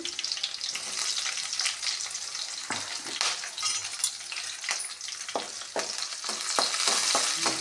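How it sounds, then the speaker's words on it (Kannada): Garlic and chilies sizzle in hot oil for a tempering while a spoon stirs through them, steady close frying hiss with repeated scraping taps of the utensil against the pan, no talk. "ಅದು ಸ್ವಲ್ಪ ಕೆಂಪಾಗೋ ತನಕ ಫ್ರೈ ಮಾಡಿರಿ"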